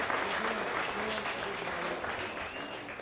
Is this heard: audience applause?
yes